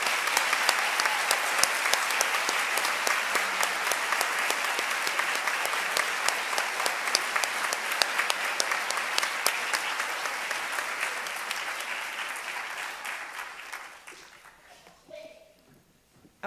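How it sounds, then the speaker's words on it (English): Sustained applause from a large audience at a school eighth grade recognition ceremony, steady and loud, gradually thinning out and fading near the end. "would you please join me in a round of applause for your teachers?"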